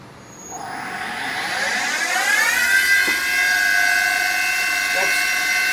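A Hardinge CHNC CNC lathe spindle, rated 7.5 horsepower, spins up toward 6000 RPM, a rising whine with climbing tones that settles into a steady high pitched hum, with faint soft ticks.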